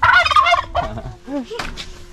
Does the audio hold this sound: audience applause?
no